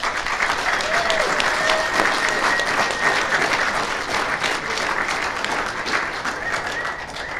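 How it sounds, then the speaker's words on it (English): Audience at a craft malt awards ceremony applauding the defending champions, sustained even clapping from a crowd, moderately loud and continuous. "let's give a round of applause because these folks were also virtual"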